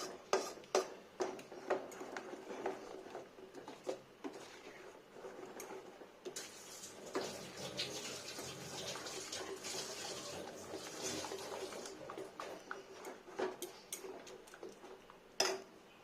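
Tap water runs steadily while something is rinsed during breakfast cooking in a home kitchen, a continuous close splashing hiss broken by occasional small clicks and knocks, with no talking.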